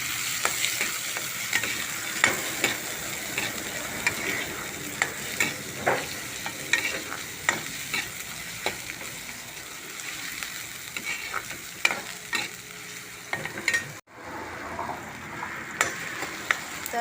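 Onion frying in hot oil with curry leaves, stirred in a pan, with a steady sizzle broken by repeated scraping and clinking strokes of the spoon throughout.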